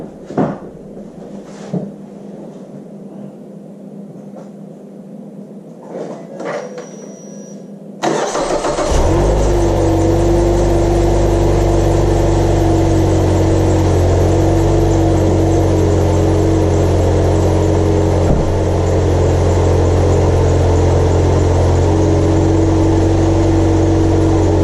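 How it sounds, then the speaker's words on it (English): A car engine with a replaced belt tensioner and idler cranks and fires up from cold after a few quiet seconds with small clicks, then settles into a loud, steady idle with a persistent whine. "This is a cold start."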